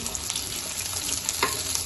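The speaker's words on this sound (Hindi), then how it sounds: "अब इस मौके के ऊपर प्याज डाल देते हैं और इसको अच्छी तरह ब्राउन करेंगे" Onions frying in a pot for masaledar biryani, a steady close hiss of sizzling oil running on without pause and with no voices over it.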